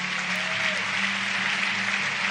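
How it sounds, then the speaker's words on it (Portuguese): A large congregation at a national youth church conference claps together in a broad, continuous wash of applause that fills a big hall, steady and even throughout with no break. "Eu queria que você, sabe, irmão, aplaudisse a Jesus com muita alegria"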